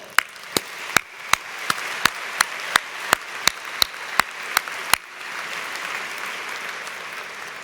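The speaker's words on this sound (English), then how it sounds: "A round of applause for all." A commencement crowd at North Central College's 2024 ceremony claps in a steady, rhythmic unison beat, about fourteen loud evenly spaced claps that then break into a continuous wash of scattered applause.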